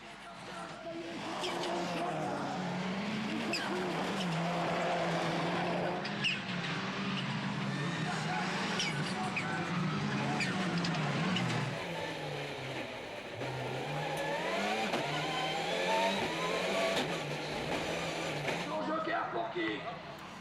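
Peugeot 207 rallycross cars duel through the laps of a French Rallycross race, engines rising and falling in pitch as they rev and shift, heard under continuous commentary.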